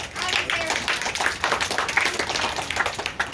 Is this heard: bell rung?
no